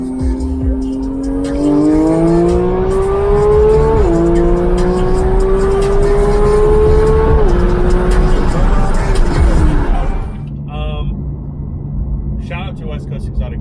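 A Porsche GT3 engine revving past 8,500 RPM, a rising high-pitched mechanical wail that climbs in steps through gear changes before dropping off and fading, heard loud from inside the car.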